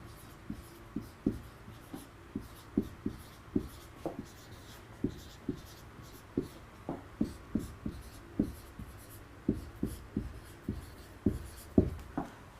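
Marker tapping and scratching on a board during an English vocabulary lesson, a close, quiet series of irregular short strokes and taps with no talk.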